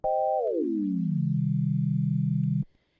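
A Pocket Piano synthesizer tone glides smoothly downward from a higher pitch into a steady low drone, holds, then cuts off abruptly.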